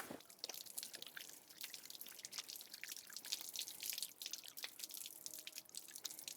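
Hands are washed under a running kitchen tap, giving a faint, continuous patter of water splashing and dripping into a sink, with no voices.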